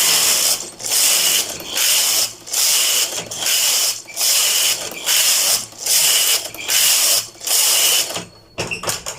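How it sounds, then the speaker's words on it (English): A knitting machine's lace carriage slides back and forth across the needle bed, loud repeated mechanical rattling passes of about a second each with short pauses between, ending in a few clicks. "2 rows of the lace carriage."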